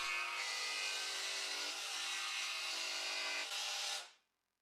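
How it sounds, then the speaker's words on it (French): A jigsaw fitted with a laminate-cutting blade buzzes loudly and continuously through laminate for about four seconds, then stops abruptly and the whir fades out. "Avec une lame spéciale pour stratifier sur ma scie sauteuse, je peux couper jusqu'à la ligne de traçage"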